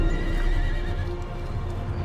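A horse in the video game Age of Empires II whinnies loudly, with clip-clopping hooves beneath, over steady background ambience.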